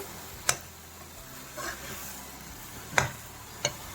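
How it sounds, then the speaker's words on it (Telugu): Black jamun halwa being stirred in a pan until it thickens into a lump: soft scraping and a few sharp clicks of the spoon against the pan, spaced irregularly over a quiet background. "ఇలా ముద్దలాగా అయ్యేదాకా మనం ఇలా కలుపుకుంటూనే ఉండాలి"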